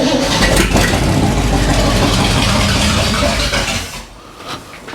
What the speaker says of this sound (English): Okay, let's start her up, rev her up, see what we get out of her.